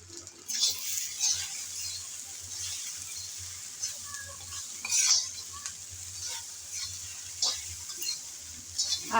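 Kochur loti (taro stolons) frying in a pan with a little oil, stirred with a utensil: a steady soft sizzle with occasional scraping and clinking of the spoon against the pan, no talking.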